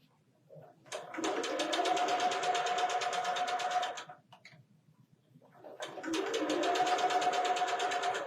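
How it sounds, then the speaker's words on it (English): Sewing machine stitching a quilt flower block, running in two steady bursts of rapid, even stitching, each about three seconds long with a brief pause between, close and clear. "I'll go ahead and sew this one."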